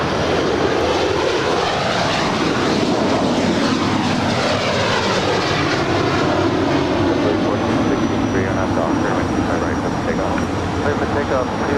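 Airliner engines roaring at LAX airport, a loud continuous rising-and-falling jet and propeller drone dominating the whole stretch, close and intense, with a voice faintly underneath.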